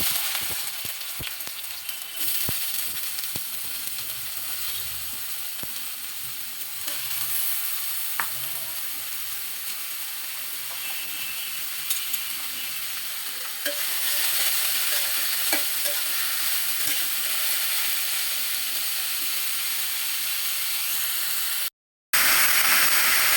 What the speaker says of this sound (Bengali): তেল গরম হয়ে গেছে, এখন আমি করলাগুলো দিয়ে দেব